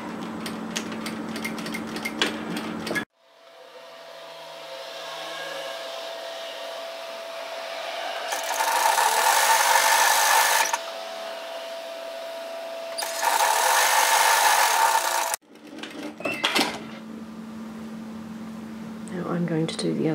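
A sewing machine stitches a shoulder seam of a flutter-sleeve top in two steady whirring bursts. Quieter handling noises come between and around them.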